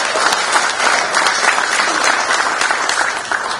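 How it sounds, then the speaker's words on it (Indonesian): Audience applause after a speech announcing a big presidential election win in Indonesia: steady dense clapping from a sizable crowd, loud and sustained throughout with no pause. "Boleh tepuk tangan."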